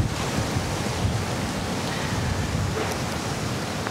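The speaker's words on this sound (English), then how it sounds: "Lots of wind." Strong wind blows outdoors in a park, a steady broadband roar buffeting the microphone for the whole stretch, with no talking.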